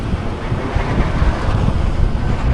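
Strong wind blows near wind turbines, a loud, continuous roar buffeting the microphone throughout with no voices.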